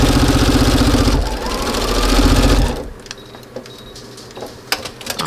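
A sewing machine stitches across quilt fabric in a loud, rapid, steady mechanical chatter for a few seconds, then stops, leaving quieter clicks and handling sounds.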